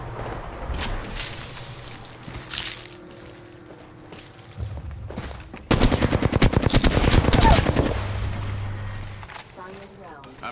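Rapid automatic gunfire in the Apex Legends video game, with scattered shots early on, then a loud sustained burst of about two seconds. A voice talks over the game sounds.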